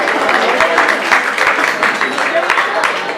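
Audience applause at a talk on Bogotá's geological and climate history, dense steady clapping from a room full of people, loud and continuous throughout.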